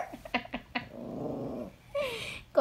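A dog growls in low, rumbling bursts while playing over a stuffed moose toy, with snuffles and a brief high whine near the end, close and fairly quiet.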